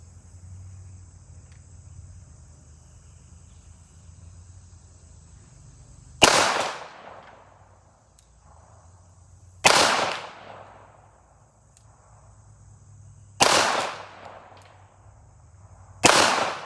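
A Kimber Eclipse Target II pistol fires four loud, evenly spaced single shots at an outdoor target range, each with a sharp crack and a short decay. Steady insect chirping continues between the shots.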